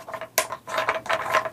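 Film advance knob on a Nu-Box 1 modern box camera being wound, a close ratcheting rasp in three quick grinding strokes with a short click between them.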